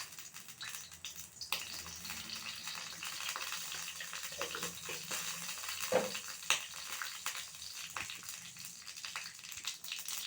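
Quiet crackling and popping of mustard seeds frying in hot cooking oil, with scattered sharp pops over a soft sizzle.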